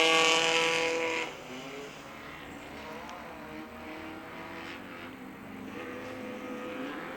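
An off-road race car roars past close and loud at first, its engine note dropping as it moves away and fades into a sustained drone, with a commentator talking over it.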